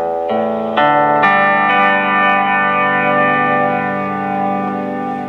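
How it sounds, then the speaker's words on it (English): A Fender Stratocaster electric guitar run through a pedal board rings out a few struck chords that build in layers and then sustain long and loud, thickened with chorus-like shimmer and distortion. "we got the pedal board plugged in, and of course we got a Fender Stratocaster in hand"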